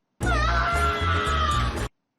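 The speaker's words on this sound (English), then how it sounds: "Stop screaming." A person screams long and loud in a drama film scene, one sustained wailing cry with brief breaks, close and alone before cutting off.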